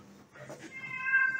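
A cat meows near a village garden during a breakfast gathering, one drawn-out, rising call that grows clearer and tonal, heard close over a quiet background.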